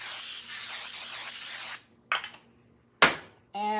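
An aerosol can sprays a baking pan for sweet potato yeast rolls in a long, close, steady hiss, then a short burst, followed by brief clatters as the can and pan are handled.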